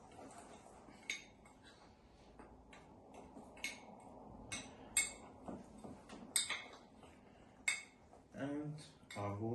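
Dry flour and a gram of baking powder being mixed in a bowl for a Swiss roll sponge, with quiet scraping and repeated light clinks of a utensil against the bowl, fairly close and soft.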